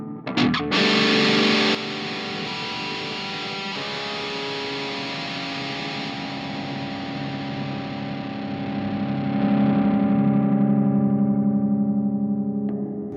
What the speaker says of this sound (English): And this is a reverb.